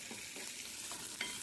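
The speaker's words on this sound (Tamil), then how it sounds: "கடலைப்பருப்பு, கொஞ்சம் போல் உளுந்து பருப்பு சேர்த்திக்கலாம். நல்லா பொரியட்டும்." Chana dal and urad dal frying in hot oil for a tempering, a close, quiet, steady sizzle with faint crackles and stirring, no voices.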